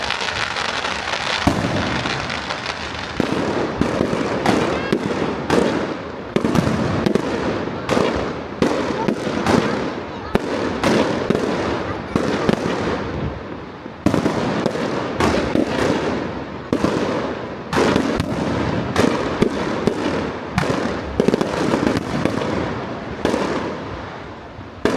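Fireworks explode at Blackpool Pleasure Beach at night, a long barrage of loud bangs and crackling bursts packed closely together, with occasional excited voices in the crowd.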